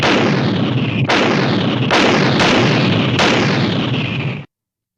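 Four heavy artillery cannon blasts at the Battle of Stalingrad boom in succession, each a sharp loud report trailing into a rumbling decay, spaced roughly a second apart.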